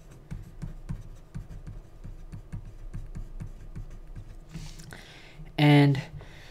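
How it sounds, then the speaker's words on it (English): A pen scratches and taps across paper as notes are written by hand, a soft, irregular run of close strokes, ending with a short louder burst, with speech briefly present. "So I'm just going to write it down right here."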